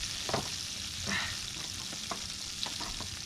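Lobster meat sizzles steadily in garlic butter in a pan over a gas cooker, a close, continuous frying hiss with a few sharper crackles and spatters.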